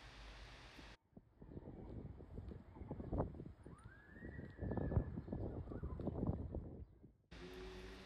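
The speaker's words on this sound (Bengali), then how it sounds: "বাতাসের কি ভয়ানক আওয়াজ হচ্ছে।" Strong wind gusts across an open community garden full of trees, roaring steadily into the microphone as a dense low rumble that swells and eases for several seconds.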